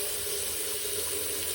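Hot water runs from a kitchen tap in a steady, close hiss and splash with no break and no voices.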